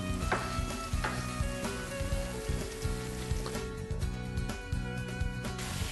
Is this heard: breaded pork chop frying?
yes